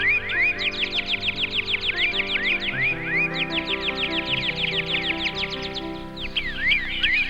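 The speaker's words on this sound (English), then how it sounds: "Now, what's that sound? Sparrows!" Sparrows chirp busily in a wood in an animated story, a dense run of quick, bright tweets close by over a steady background tone, pausing briefly before resuming.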